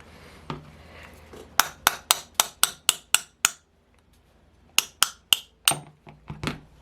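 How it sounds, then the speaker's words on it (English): A flat nose punch is hammered in a rapid series of sharp metallic taps to drive the front bearing out of an OS 61SF model engine crankcase, with about seven quick strikes, a pause, then another burst of five or six. "So I can tap this front bearing out, and then I can use the same punch to get that rear bearing off."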